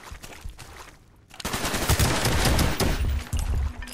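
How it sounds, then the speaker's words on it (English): Heavy automatic gunfire in Call of Duty Black Ops, with a dense, sustained burst of rapid shots that starts after a brief quieter lull and stays loud and close to the end. "I just unloaded a bunch of bullets on that."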